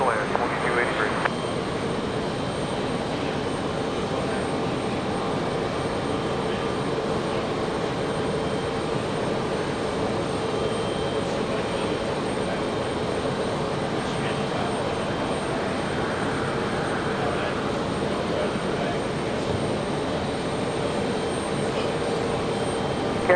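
Delta airliner landing on runway 23 right at Raleigh-Durham airport, a steady loud jet roar sustained throughout with a brief louder burst at the start, faint radio talk layered beneath.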